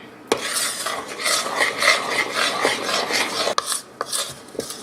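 Dry mix being stirred into cake batter in a bowl, a steady scraping, rasping rub that runs continuously for several seconds with a few sharper knocks of the utensil against the bowl near the end, close and fairly loud, no talking.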